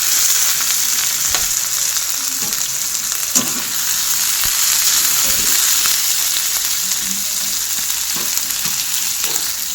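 Food fries in a hot pan in a modest home kitchen, a steady bright sizzle running throughout, with occasional scrapes and soft knocks of a spoon stirring the contents.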